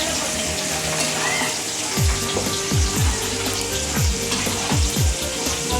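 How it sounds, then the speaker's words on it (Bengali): Broth pours into a pan of frying mutton curry, with steady sizzling, bubbling and a flowing wash of liquid that stays loud and close throughout. "এখন ঝোল দেওয়া দেবো।"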